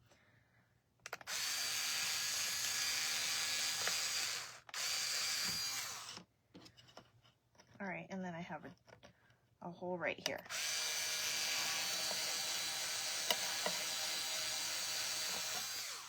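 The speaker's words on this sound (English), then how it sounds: "Now I am going to use my drill because I did paint over the holes" A power drill whirs in long, loud bursts, re-drilling painted-over holes in a sign, stopping briefly while someone speaks, then drilling again steadily.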